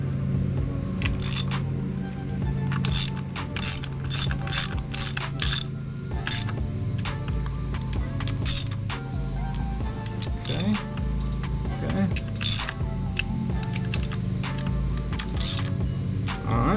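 A ratchet clicks in quick repeated bursts while tightening the bolts on aftermarket GB Racing case covers of a 2021 Yamaha R1, close and crisp over a steady low background hum.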